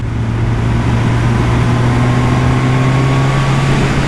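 A 2020 Suzuki Katana motorcycle engine drones steadily in sixth gear at low revs while riding, a constant close hum with a faint whine and wind rush and no talk.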